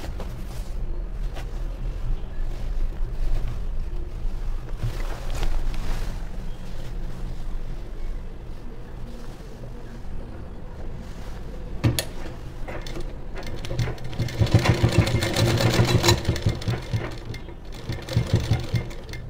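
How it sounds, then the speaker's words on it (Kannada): A sewing machine stitching two fabric layers of a child's churidar top, a steady low mechanical whir with faint ticking, growing louder and busier in a burst of fast stitching near the end. "ಈಗ ಸ್ಟಿಚ್ಚನ್ನು ಹಾಕೊಂಬರ್ತೀನಿ ನಾನು."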